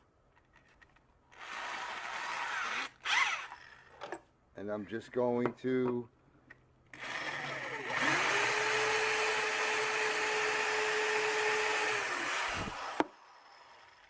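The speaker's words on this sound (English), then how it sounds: "Put that in my drill." Someone speaks briefly, then a power drill fitted with a countersink bit whirs up to speed and runs steadily for several seconds before cutting off abruptly.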